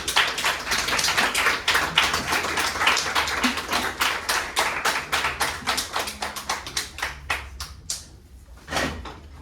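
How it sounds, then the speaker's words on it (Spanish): Applause for a poet at a literary festival, crisp clapping that starts dense and lively, then slows into fewer, sparser claps and fades near the end. "den un fuerte aplauso a Eduardo González"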